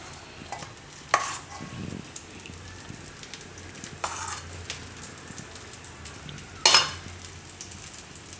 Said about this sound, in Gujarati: ધીમા ગેસે જ શેકાવા દેવાનું.